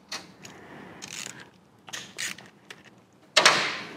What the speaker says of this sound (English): Next, we want to remove the drain screw and the little gasket underneath.